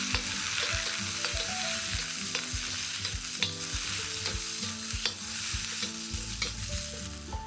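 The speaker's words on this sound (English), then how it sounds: "And now to our wok, we can add our onion. And you want that nice hot sizzle." Chopped onion sizzles in a hot oiled wok, a loud, steady frying hiss broken by the clatter and scrape of stirring, with no voices.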